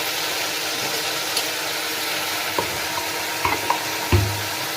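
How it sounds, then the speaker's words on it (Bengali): Spinach hits hot oil and spices in a pan for restaurant-style palak paneer, giving a steady sizzle with a few sharp clanks and scrapes of stirring near the end. "এবার আমি এর মধ্যে যে পালং শাকটা করে রেখেছিলাম এটা দিয়ে দেবো"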